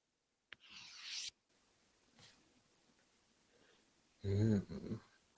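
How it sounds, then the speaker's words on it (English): A tarot card slides out of the deck with a soft papery rustle and a quick snap, followed later by a louder shuffling scrape; close, intimate and quiet between sounds. "we need to draw one final card"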